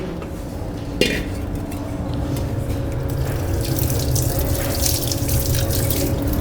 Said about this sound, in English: Under cold water.